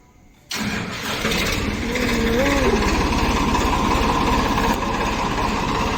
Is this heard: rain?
no